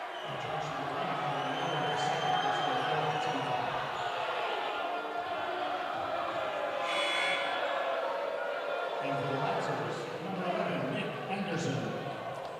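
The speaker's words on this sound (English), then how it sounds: "The Layton High School crowd not happy with the call." A high school basketball crowd in the Layton vs. Copper Hills boys game murmurs and grumbles unhappily after a call, a broad, sustained gym roar with occasional shouts and sneaker squeaks, under a commentator's voice.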